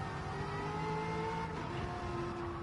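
Race car engines from the Racing Rivals video game drone steadily with sustained tonal whine, a continuous moderate-level engine sound throughout with no talk.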